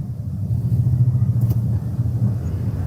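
A manual car pulls away gently in first gear in city traffic as the clutch is slowly released, producing a steady low engine rumble that holds even throughout, close and continuous with no talk.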